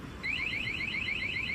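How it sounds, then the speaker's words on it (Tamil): A vehicle's anti-theft alarm chirps after being locked by remote: a rapid series of about eight sharp, rising electronic chirps, loud and close, over low background noise. "ஃபர்ஸ்ட் டைம் வாங்கினா 2 டைம்ஸ் அலாரம் அடிக்கும்."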